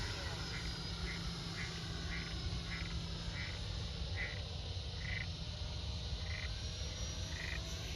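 Frogs croak in a steady, repeated pulsing chorus close by outdoors at sunset, beneath a constant high whine and low rumble from a model jet's engine, with some talk over it.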